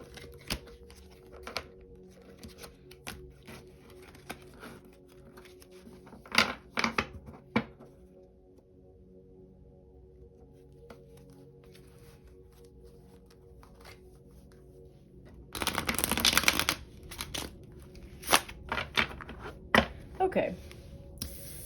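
A deck of tarot cards is shuffled in short riffling bursts, soft and close, with a longer louder shuffle late on, while a voice talks quietly in between.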